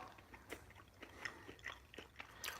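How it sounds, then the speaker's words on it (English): Close, wet chewing with the mouth open, with irregular smacking and crunching bites spaced through a quiet room. "stop chewing with your mouth open"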